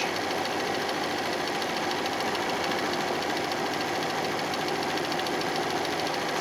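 A sewing machine runs steadily, stitching a zigzag 3.5 wide and 1.5 long along the edge of a quilt-as-you-go cosmetic bag, a close, continuous mechanical whir with a dense rapid rhythm and no talking.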